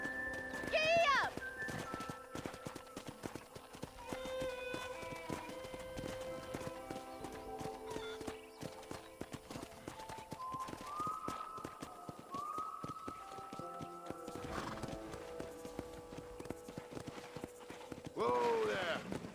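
Horse hooves clip-clop at a steady gallop across a western town in Red Dead Redemption, with a neigh, game music and character dialogue playing over the rhythmic beats.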